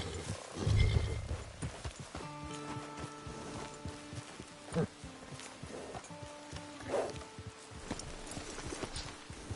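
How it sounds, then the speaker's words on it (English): A horse in a video game neighs and whinnies, then its hooves clip-clop at a walking pace, close and fairly quiet, with scattered movement sounds in between. "It's your horse."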